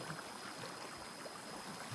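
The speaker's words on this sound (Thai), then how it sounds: "น้ำไหลแรงมากทุกคนบอกเลย" Water rushes steadily in a flowing stream, a continuous hissing and burbling wash with no talking.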